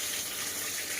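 Water pours steadily into a pot of milk in a home kitchen, a continuous close splashing gush with no break.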